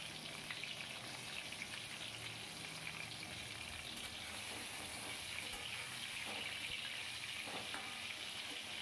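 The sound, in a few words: pointed gourd (potol) frying in a pan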